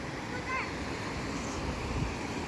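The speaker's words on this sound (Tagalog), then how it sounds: "Andito kami ngayon sa Pangari Falls." Pangari Falls pouring down, heard as a steady, dense roar of falling water with gusting wind across the microphone throughout.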